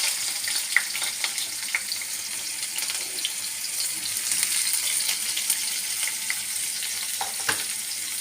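Onion, prawns and potatoes sizzle in hot oil with a steady, bright hiss and scattered crackles and pops, a continuous close frying sound with no voices.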